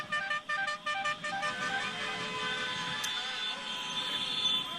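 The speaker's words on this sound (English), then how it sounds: "you could just get an idea with all the horns beeping away there" Car horns honk and beep repeatedly beside a narrow road lined with crowds during the 2015 Tour of Flanders bike race, a steady layered chorus of tones over crowd noise.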